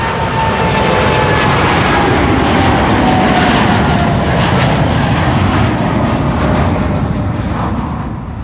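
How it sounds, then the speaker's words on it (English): A KLM Boeing 787-9 airliner passes at Amsterdam Schiphol Airport with a loud, sustained broadband engine roar. The roar holds steady for several seconds and eases slightly at the end, with no talk over it. "KLM flight 789 to St. Maarten. Coming this way. Boeing 7879."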